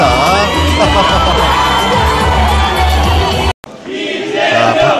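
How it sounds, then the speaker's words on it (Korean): A dense crowd at a Democratic Party presidential primary rally in the Chungcheong region roars and cheers loudly and continuously, with shouts and whoops rising above the din, then briefly cuts out before the cheering swells back in. "함성 소리가 쏟아집니다"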